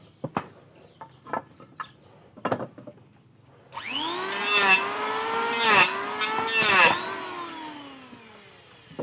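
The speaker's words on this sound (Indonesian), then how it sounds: "kita rapikan ya dengan menggunakan mesin pasah atau mesin ketem" A power planer trims the edge of a plastic drum boat. It starts after a few sparse knocks and clicks, then whines loudly in repeated rising and falling passes, close by.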